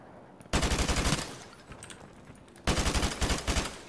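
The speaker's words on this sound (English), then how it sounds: "I was just kind of shooting, and I got a hit marker." Two loud bursts of rapid automatic gunfire from the Call of Duty: Modern Warfare Remastered PC campaign, each lasting about two seconds with a quieter stretch of battlefield noise between them, no voices.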